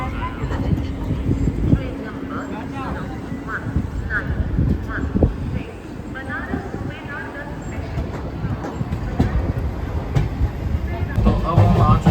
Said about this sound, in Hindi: अपनी ट्रेन का प्रयागराज जंक्शन से डिपार्चर हो चुका है